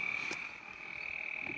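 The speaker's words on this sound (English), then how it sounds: "those frogs sound like goddamn Jurassic Park out there" Frogs croak outside at night in a dense, steady chorus with a sustained high trill and a few louder croaks over it.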